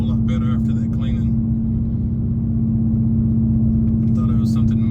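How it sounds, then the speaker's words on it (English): A Dodge Charger SRT's engine idles with a steady, deep, close-up rumble and an even low drone, while someone talks over it. "The idle on this car is a whole lot better after that cleaning."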